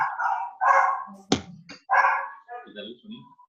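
A small dog barks a few sharp, high yips in a room, close and fairly loud, interleaved with a person talking.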